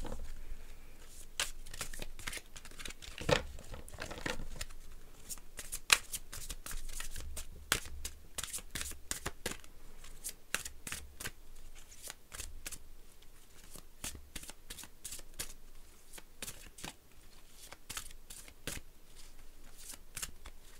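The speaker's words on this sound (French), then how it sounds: "je vais vous tirer une carte de l'oracle d'Isis" Deck of Isis oracle cards being shuffled by hand, a continuous close riffle of soft papery flicks and taps repeating steadily throughout, with no talking.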